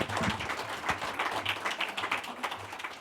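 An audience applauds speaker Stella Morabito with dense, continuous clapping that holds at a fairly even level for the whole stretch.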